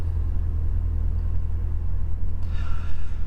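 A 2021 Ford Ranger Tremor's 2.3-liter turbocharged four-cylinder EcoBoost engine rumbles steadily at idle with a deep low drone, rising in a brief rev near the end.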